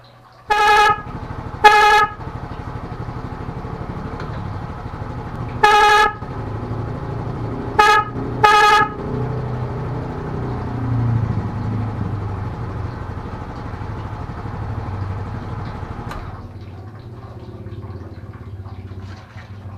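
A car horn wired through an interrupter relay gives five sharp, loud blasts: two close together, then a pause, then one, then two quick ones, with a steady engine-like rumble underneath that cuts off near the end.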